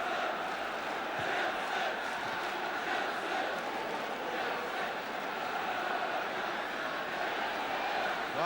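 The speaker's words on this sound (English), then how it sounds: "Well, that's got the crowd going." A packed stadium crowd at Stamford Bridge roars and chants during a Chelsea versus Wolves football match, a dense, steady wash of cheering that stays loud and continuous throughout.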